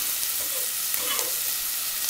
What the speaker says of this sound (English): we're just going to let these saute